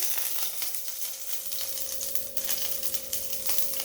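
Cumin, mustard seeds and coriander leaves sizzling in hot oil in a pan, a steady crackling fry with scattered pops throughout, close and moderate in level, no talking.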